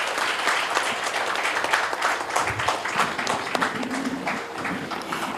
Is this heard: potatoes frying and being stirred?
no